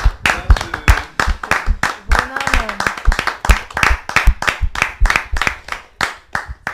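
A church congregation claps and applauds in praise during a testimony service, with rhythmic hand claps filling the room alongside cheering voices and a speaker talking over the noise.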